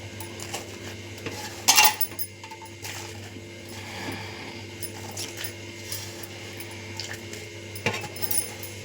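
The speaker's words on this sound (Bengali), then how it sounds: "দেখুন ছান্তা দিয়ে একটু সামান্য নেড়ে দিল ওপরটা" A spatula stirs chusi pitha in a pot of boiling water, giving soft metallic scrapes and clinks, with a sharper clatter near the two-second mark, over a steady low hum.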